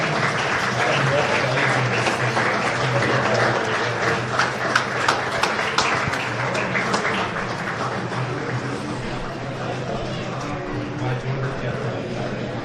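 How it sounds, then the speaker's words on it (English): Crowd at a 2016/17 Illawarra Cricket T20 final, second grade, applauding an injured player as he leaves the field, a thick, steady clapping wash that fades slightly, with commentators talking over it. "Crowd gives him a round of applause as he makes his way from the field."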